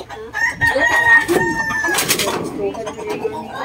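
Backyard chickens cluck busily while a rooster lets out a long crow, loud and close, with people chattering in the background.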